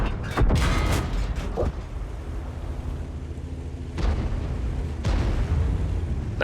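Heavy tank cannon shots from a Caernarvon in World of Tanks, loud booming blasts near 0.5, 4 and 5 seconds, each with a rumbling tail over steady engine drone.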